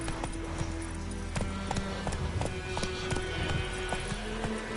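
Roach the horse galloping in The Witcher 3, steady rhythmic hoofbeats close and loud over a continuous background drone, with no talk.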